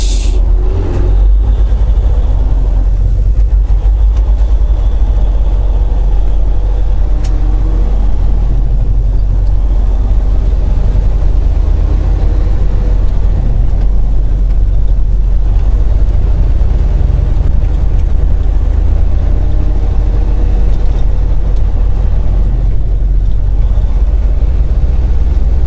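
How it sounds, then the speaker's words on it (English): Trucks with engines running give a loud, steady low rumble that goes on throughout, with only minor swells and no talking over it. "Trucks."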